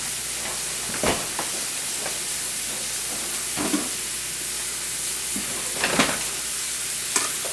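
Cheesesteak sandwich filling sizzling in a hot pan, a continuous close hiss with a few sharp clicks and scrapes of stirring scattered through, no talk.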